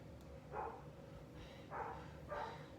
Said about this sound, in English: my dogs get to barking